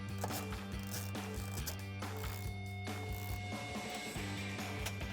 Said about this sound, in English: You're going to tighten that up with the T40 Torx.